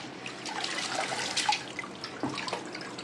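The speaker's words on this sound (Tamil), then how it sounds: "ஃபஸ்ட்டு நல்லா அலசி எடுத்துக்கணும்." Running water splashing as a bunch of fresh leaves for homemade green tea is rinsed under a tap, with irregular drips and gurgles, fairly close and steady.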